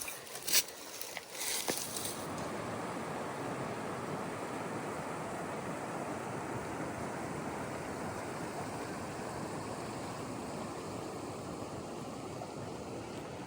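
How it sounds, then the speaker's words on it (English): A river on a long-distance hiking trail rushes in a steady, broad wash of flowing water that holds constant for over ten seconds, fairly close, after a few brief clatters at the start. "this feels like the 30th time we've crossed this river today."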